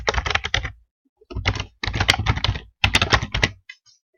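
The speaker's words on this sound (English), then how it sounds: "And I'll just type it in again. I'll just give myself a Wix password." Several bursts of fast typing on a computer keyboard, close and clear, with short pauses between the runs of keystrokes and no talking.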